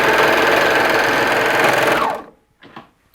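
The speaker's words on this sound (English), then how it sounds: "with a serger, you can continue to sew off" A serger sews elastic onto a leotard with a loud, close, steady high-speed mechanical whir for about two seconds, then stops abruptly, followed by a couple of faint handling sounds.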